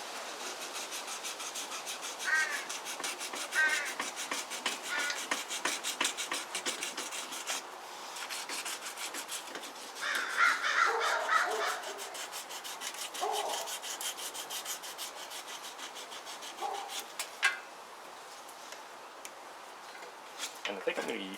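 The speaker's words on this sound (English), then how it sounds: "I can take those down with a little bit of sandpaper." Sandpaper rubbed by hand over a knife handle, giving soft, uneven scratchy strokes at close range that rise and fall irregularly, with brief louder passes and small taps between them.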